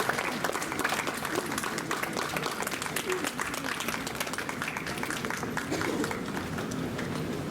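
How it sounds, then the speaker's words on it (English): Audience applause at an Independence Day awards ceremony at IIMT University Meerut, greeting Ms. Jyoti of Lifeline Hospital: steady, dense clapping from a crowd, fairly distant, with a few voices mixed in throughout. "Big round of applause, Ms. Jyoti from Lifeline Hospital"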